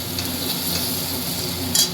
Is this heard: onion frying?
yes